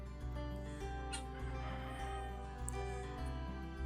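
Chickens cluck around a sunny backyard coop, soft repeated calls at a moderate distance, quiet and with no talking.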